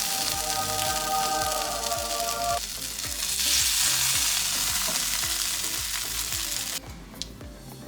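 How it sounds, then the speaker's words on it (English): Tofu frying in a pan, a steady hiss and crackle of sizzling oil that swells and thins as pieces are moved, close and continuous with occasional soft clinks and no voices. "And now we can also directly fry the tofu."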